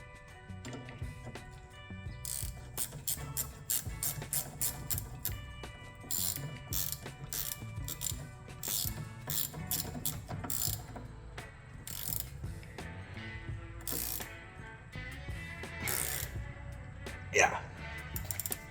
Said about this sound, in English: Get her nice and torqued.